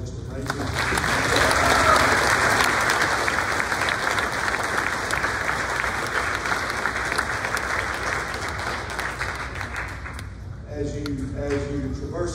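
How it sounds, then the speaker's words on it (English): Loud, sustained applause from a large audience at a high school academic banquet for a teacher, a thick roar of clapping that holds for about ten seconds before thinning out as a voice begins speaking. "a round of applause for our teacher"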